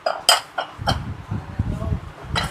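A gold-plated serving dish from a dinner set clinks and clatters as it is handled and set down, with a few sharp metallic or ceramic taps. Someone speaks throughout.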